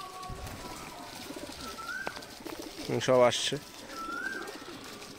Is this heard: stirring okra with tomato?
no